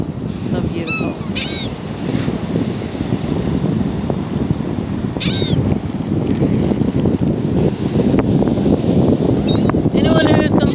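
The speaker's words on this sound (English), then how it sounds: "So windy today." Steady wind rushes across a Gulf of Mexico beach, a constant broadband roar with surf underneath, while honking goose-like birds call now and then and a person speaks briefly.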